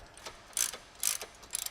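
Short runs of close ratchet clicking come as suspension bolts are loosened on the other side of a Ford Mustang S197, three separate bursts with brief pauses between them, crisp and near.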